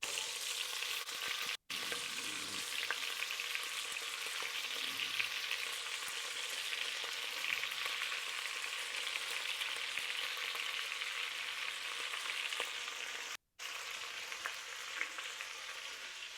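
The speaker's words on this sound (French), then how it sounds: "cuire nos morceaux de bœuf. À feu vif." Beef pieces sear in a hot pan over high heat, a steady loud sizzle running unbroken throughout with only two brief cuts of silence.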